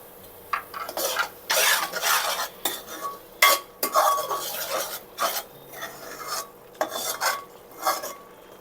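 Four or five slit green chillies frying and being stirred in a pan as a prawn curry is cooked: loud, repeated scraping stirs with sizzling and clinks of a utensil against the pan, no talk.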